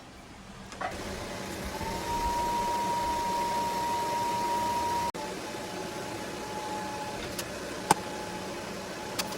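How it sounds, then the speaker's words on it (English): TIG welding a steel nut into a steel tube on an engine stand build, a steady buzzing hum with a faint high whine that runs for several seconds, cuts off, then resumes more quietly with a few clicks. "I'm going to attempt to TIG weld that into place."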